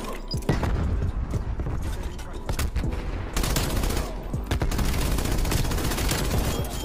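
A PPSh-41 submachine gun fires in Call of Duty Cold War, dense sustained bursts of rapid automatic shots with brief pauses, loud and close amid clattering game effects.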